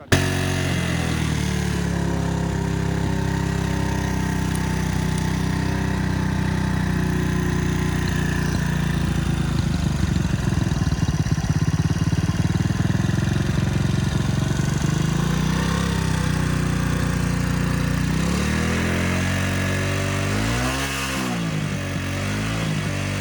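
A loud old motorcycle engine runs continuously from a close position, roaring steadily with wavering pitch that dips and swells near the end as the handlebars are turned, with no talk over it.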